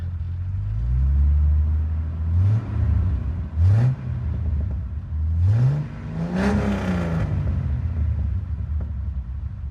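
Jeep Wrangler TJ with a modified exhaust, its engine rumbling low and close with several short rising revs breaking the steady idle, no voices.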